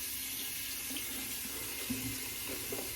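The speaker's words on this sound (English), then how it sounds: "Wash off the brush." A kitchen or bathroom tap runs steadily as a shaving brush is rinsed under it, a soft, even hiss of flowing water with faint splashing, close and without talk.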